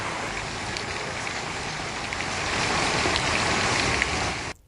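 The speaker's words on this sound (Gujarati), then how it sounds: "તો અરવલ્લીના ભિલોડા તાલુકામાં ધોધમાર વરસાદ વરસ્યો છે." Heavy monsoon rain falling in Bhiloda taluka of Aravalli district, Gujarat, as a dense, steady roar that swells slightly louder midway and holds without a break.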